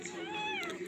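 A house cat lets out a single faint, drawn-out meow, tonal and rising then falling, against a quiet indoor background.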